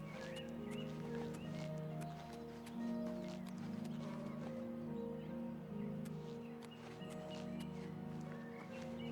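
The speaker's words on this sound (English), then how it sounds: "Sounded like a horse, too." Horse hooves clip-clop steadily over a continuous low hum in the video game Oblivion Remastered, with a faint whinny and rustling in the background; the sounds stay moderately distant.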